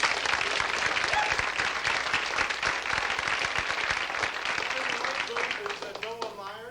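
An audience applauds at a stage performance, with dense, steady clapping that stays loud and continuous before thinning out near the end, while voices murmur underneath.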